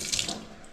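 Running tap water splashes briefly as hands are washed, a short close burst of hissing spray that fades quickly.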